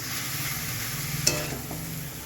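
Cabbage sizzling in a pan with a steady, even hiss and one brief clink of a utensil partway through.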